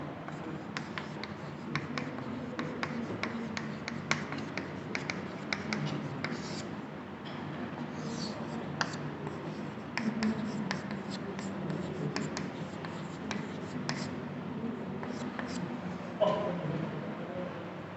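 Steady handwriting while teaching, likely chalk or marker on a board: faint, close scratching and tapping strokes in an even, continuous rhythm with no talk over it.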